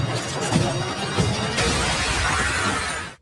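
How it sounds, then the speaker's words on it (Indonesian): A glass door in a zombie film shatters with a loud, sustained crash, a dense burst of breaking glass that carries on for about three seconds before cutting off abruptly. "Namun hal tersebut tidak berhasil karena pintu kacanya tiba-tiba pecah."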